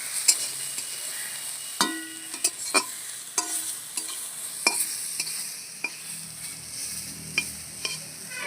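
Kharkol leaves frying in a pan with a soft steady sizzle, broken by repeated sharp scrapes and clinks of stirring at irregular intervals, close by and moderately loud.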